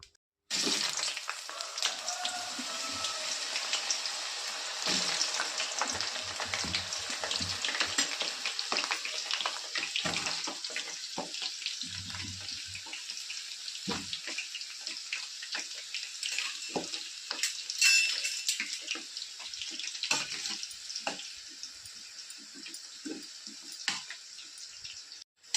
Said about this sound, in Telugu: వీటిని ఇప్పుడు నూనెలో వేసి ఫ్రై చేస్తున్నానండి